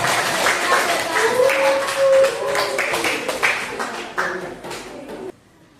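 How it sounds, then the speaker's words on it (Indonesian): An audience applauds presenters at a Qur'an and Hadith teaching performance test, steady clapping from a room of people lasting several seconds and then stopping abruptly, with a voice partly audible over it. "Kita berikan aplaus buat"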